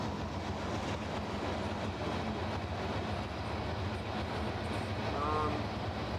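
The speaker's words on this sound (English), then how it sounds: "As we have a train descending the Proctor Hill." A CN freight train descends Proctor Hill, a steady dense rolling rumble of wheels and cars that stays loud throughout, with a faint squeal near the end.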